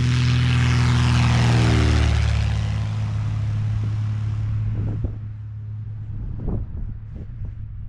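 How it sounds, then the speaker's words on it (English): Propeller airplanes taking off from an airfield: a loud, droning engine roar with a falling pitch sweeps past and then fades into the distance, leaving quieter background sounds. "we stuck around for a bit to watch a few planes take off"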